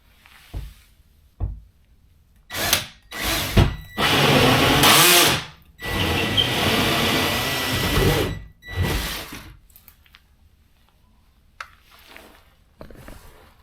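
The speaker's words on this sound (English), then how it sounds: "First thing I'm going to do is drill a new hole" A power drill bores a new hole through drywall in short whirring bursts, with one longer sustained run of drilling, close and loud, separated by gaps of near silence.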